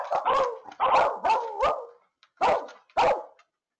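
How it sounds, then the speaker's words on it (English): A dog confined in her crate barking repeatedly from close range: six loud, sharp barks in two uneven groups, with short pauses between them and no people talking. "she barks about twice as often in her crate"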